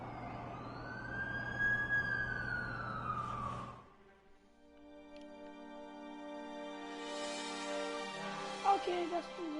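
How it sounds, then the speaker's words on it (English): A wailing ambulance siren in the video game Fortnite sweeps loudly for a few seconds, then cuts off and gives way to a steady tonal game background. "That's the ambulance I called."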